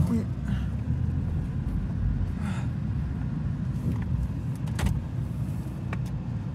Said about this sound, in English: We're in a Toyota economy car, not a 4x4.